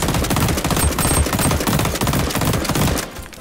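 Rapid-fire automatic gun fitted with a muzzle booster in a shooter video game, firing a dense, continuous burst of fast, loud shots for about three seconds with no talking.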